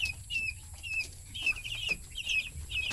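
Backyard chickens kept for the family table cluck in short, repeated calls at a moderate distance, with faint chirps and no talking.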